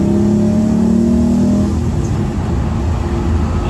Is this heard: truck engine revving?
yes